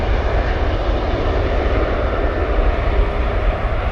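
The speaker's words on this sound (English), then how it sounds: "Probably hear the drone of the 330 Rolls-Royce engines about to pull the aircraft across the active arrivals runway in a moment." A Sun Express Airbus A330 with Rolls-Royce engines drones loudly and steadily while taxiing at Manchester Airport, a continuous deep engine roar with no talking.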